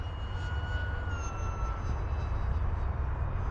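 An Atomrc White Dolphin RC plane with a small 4-inch propeller launches and climbs away, its thin high propeller whine rising and fading over steady wind rumble, with no voices.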